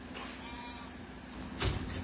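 A heavily pregnant ewe in a lambing barn, a short nasal bleat rising out of quiet barn hum near the end, close by and moderately loud.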